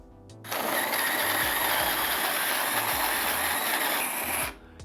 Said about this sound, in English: with one press of the button on the motor, it will begin grinding